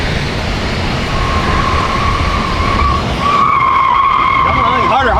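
Tesla car doing donuts, tires skidding in a loud continuous squeal with a shifting pitch that wavers at the end, close and harsh, with people talking over it.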